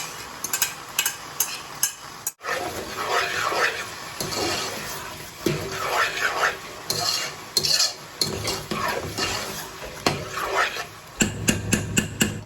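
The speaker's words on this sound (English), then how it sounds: "I'm going to add in my tomatoes. This is the one that I cooked, the blended one." Blended cooked tomatoes go into a pot of garden egg stew, bringing a stretch of stirring, scraping and soft sizzling, with spoon knocks against the pot and pauses between bursts.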